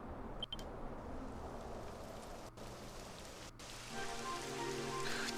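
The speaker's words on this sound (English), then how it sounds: "It would have to go and start raining, wouldn't it?" Rain falls steadily in the video game Dragon Quest XI, a constant hiss of drops on surfaces with a few sharp game tones cutting in and the downpour swelling louder toward the end.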